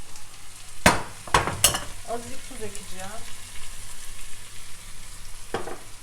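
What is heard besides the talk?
spinach sautéing in a pan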